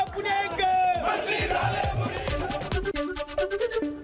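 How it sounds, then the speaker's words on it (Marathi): Party workers cheer and shout together at an office in Pune, a dense crowd roar of whoops and voices with rhythmic claps or drumbeats throughout, loud and close. "पुण्यातील कार्यालयात कार्यकर्त्यांचा जल्लोष"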